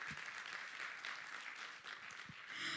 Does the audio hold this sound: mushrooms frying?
no